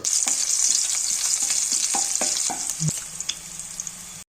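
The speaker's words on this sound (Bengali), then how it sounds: "একই কড়াইয়ের মধ্যে দিয়ে দেব গোটা দারুচিনি গোটা এলাচ আর দুটো লবঙ্গ আর সাথে কুচনো কাঁচা লঙ্কা দিয়ে হালকা নেড়ে চেড়ে নেব" Whole cinnamon, cardamom, cloves and chopped green chillies sizzle in oil in a kadai. A spoon scrapes and stirs them now and then over the steady, close frying hiss.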